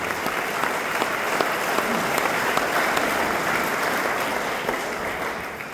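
Audience at a Texas farm heritage celebration applauding quilters, a dense, steady round of clapping from a crowd that holds evenly for several seconds.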